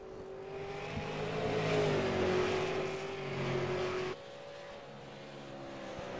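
A Super Late Model race car comes off turn 4 at Five Flags Speedway, its loud engine roaring with sweeping pitch as it accelerates past, then dropping to a steadier, quieter drone.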